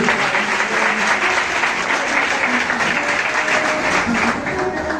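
A church congregation at a youth presentation bursts into dense, sustained applause, many hands clapping at once in a steady wash with faint voices beneath.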